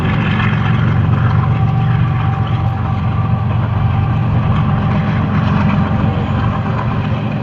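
A light railway engine rolling slowly past at Dhabeji, a loud, steady low rumble and mechanical drone that holds evenly throughout with no voices.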